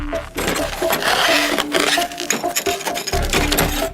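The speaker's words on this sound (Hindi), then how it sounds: "अब वो एक चिजल से मोटी बर्फ को काट रहे हैं।" A chisel cuts into thick ice on a frozen river in Oymyakon, with repeated sharp scraping and chipping strikes, loud and close, in an irregular rhythm.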